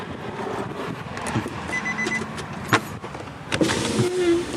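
Power windows on a four-door manual Nissan Navara pickup running up and down, a few short whirring motor pulls with clicks near the end, heard close inside the cab amid faint background noise.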